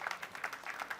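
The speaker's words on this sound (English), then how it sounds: "a round of applause." Faint, brief applause at a road junction commissioning ceremony in Edo State: scattered claps that sound distant and low in level, lasting about a second.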